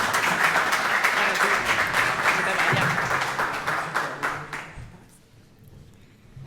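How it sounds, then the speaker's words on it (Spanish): Audience applause at a talk event on conspiracy theories: many hands clapping in a dense burst for several seconds, then thinning and fading out toward the end. "Un aplauso para Estefanía."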